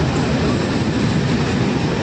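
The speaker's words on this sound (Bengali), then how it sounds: "ট্রেন ঢুকছে, ট্রেন ঢুকে গেছে স্টেশনে।" A train pulling into Bira station in West Bengal on the line to Ranaghat, a dense, steady rumble of wheels and carriages close by, continuous and loud throughout with no distinct horn.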